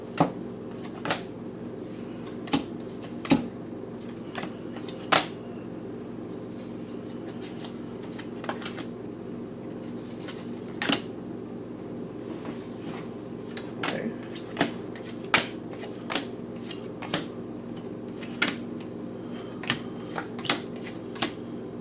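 Oracle cards from a Spirit Animal Oracle deck are handled and shuffled, giving sharp, irregular papery snaps and riffles over a steady low room hum, with no talking.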